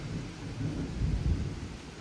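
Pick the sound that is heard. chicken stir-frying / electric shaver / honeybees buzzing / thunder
thunder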